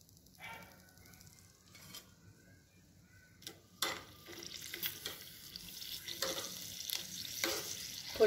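Stuffed masala green chillies frying in hot oil, starting quiet with a few clicks, then a crackling sizzle that builds and grows louder and busier toward the end, heard close with no talk.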